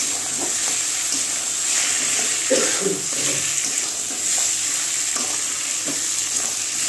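Fish head sautéing in a pan before being added to dal, a steady loud sizzle and crackle with soft scraping strokes of a spatula, plus a brief low muffled thump midway.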